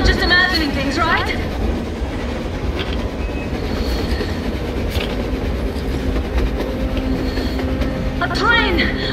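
In the video game Metro Exodus, a train rolls past on the surface with a loud continuous rumble, rhythmic wheel clatter and brief squeals, while voices speak over it.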